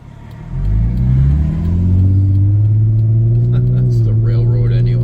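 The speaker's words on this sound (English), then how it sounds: "I'll wait for that truck to go by." A log or pulpwood truck rolls past a rural railroad line, its engine rumbling loud and close as it builds speed, with the pitch rising steadily and the drone filling the roadside.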